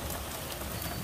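Hail pelting down steadily outside while someone works on leveling a Murray mower deck, a dense continuous patter of impacts close by and loud, with no talking.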